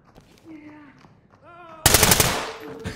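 Gunfire in the tactical shooter Ready or Not: a sudden loud burst of rapid automatic fire sprays close by, following a moment of quieter game sounds and faint voices.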